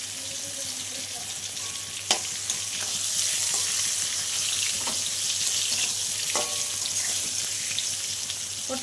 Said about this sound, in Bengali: পটলটা আর একটু ভাজা হবে